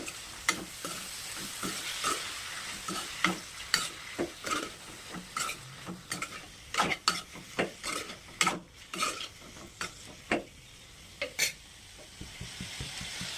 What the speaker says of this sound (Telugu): వేసుకున్నాక ఒకసారి మొత్తం తిప్పేసేయండి, ఉప్పు ముక్కలు మొత్తం పట్టాలి